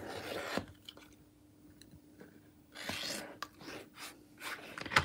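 A rotary cutter or blade trims fabric along a quilting ruler in a couple of quiet rasping strokes, with soft handling rustles and light taps between cuts, close and faint.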